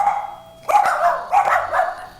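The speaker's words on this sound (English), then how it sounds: "they start barking" A dog barking indoors at the front window of a house, a few sharp close barks in quick succession after a brief whine.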